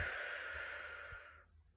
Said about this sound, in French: Et on inspire. Et on expire.